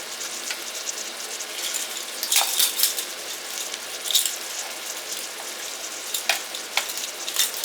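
Onions sizzling and softening in an Instant Pot for Salisbury meatballs, a steady close frying crackle with occasional brighter pops and stirring scrapes throughout.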